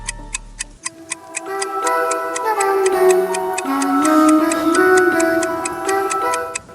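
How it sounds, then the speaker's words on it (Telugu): A wall clock ticks in a steady, evenly spaced rhythm, close and clear, while sustained tonal music swells beneath it partway through; no one speaks. "బయటపడే వర్షం కన్నా ఈ గడియారం సౌండ్ కొంచెం భయంకరంగా ఉంది."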